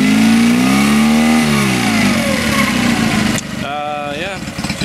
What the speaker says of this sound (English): the motor is currently running, pumping good water, idling great.